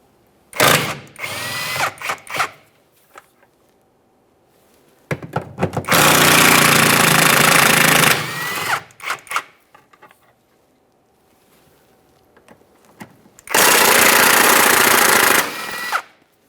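Power tool, likely an impact gun, removing four 16mm mounting bolts on a 2011-2021 Jeep Grand Cherokee 3.6L V6 at the rear transmission mount. Three loud, close bursts of rattling, a few seconds each, separated by quiet pauses.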